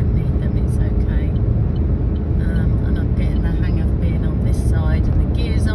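Steady engine and road rumble from inside a car cruising along a motorway on a drive through Portugal toward Galicia, a constant loud drone throughout with no voices.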